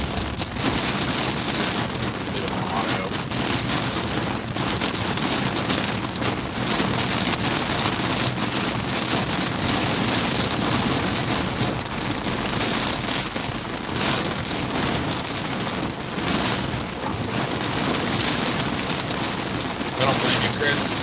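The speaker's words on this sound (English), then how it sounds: "It's still raining pretty heavy." Heavy rain lashes down inside the eye wall of Tropical Storm Ophelia at Emerald Isle, North Carolina, a dense, steady roar with gusting wind buffeting the microphone throughout and voices speaking faintly beneath it.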